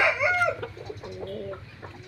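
A rooster crows loudly up close, followed by chickens clucking softly nearby, at a Thai farm breeding sport chickens for sale.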